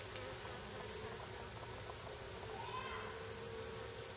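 A steady, dense buzzing of many bees close by, continuous throughout with a low droning hum underneath.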